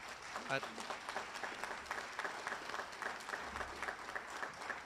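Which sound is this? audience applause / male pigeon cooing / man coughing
audience applause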